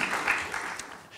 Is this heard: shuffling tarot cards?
no